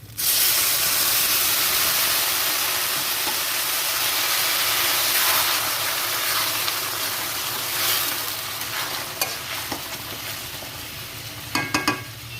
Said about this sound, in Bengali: এবার আমি একটু জল দিয়ে দিচ্ছি, মাপ করে দেখো।